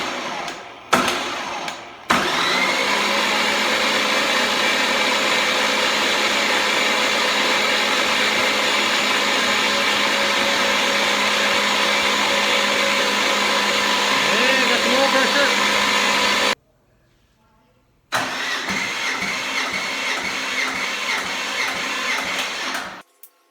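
A junkyard L99 4.3L V8 roars on a dyno in a steady, loud, sustained pull that cuts off abruptly, falls silent briefly, then resumes running before dying away.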